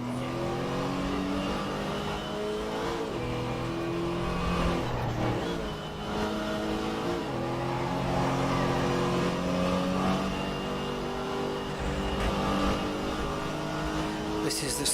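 A racing car in the Assetto Corsa Competizione sim revs hard and shifts through gears, its engine whine climbing and dropping repeatedly at close range, with someone talking over it.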